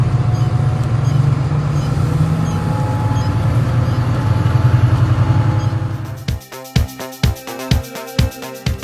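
A truck engine idles and rumbles steadily during a driving lesson, loud and close, then cuts to a sparse rhythmic pattern of knocks and clicks near the end.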